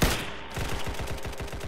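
Rapid gunfire from a shooting video game in a neighborhood base setting, a steady burst of repeated shots pulsing through the whole short stretch at fairly low level.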